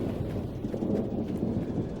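Thunder rolls in a Gold Rush gold-mining game, a dense low rumble with rain hiss layered over it, steady and heavy throughout.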